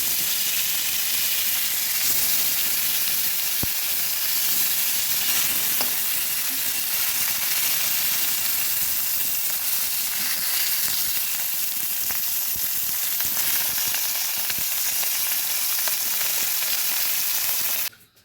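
A second batch of katla fish frying in hot oil in a kadai, giving a loud, dense, unbroken sizzle and hiss that cuts off abruptly at the end.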